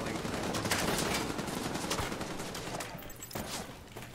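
Rapid bursts of video game gunfire, a fusillade of shots crackling densely across the first seconds and thinning out toward the end, with no talk in between.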